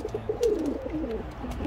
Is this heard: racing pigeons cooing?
yes